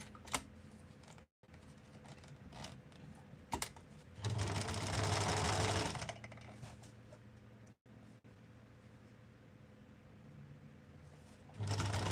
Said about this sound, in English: My lining, I will sew it flat afterwards.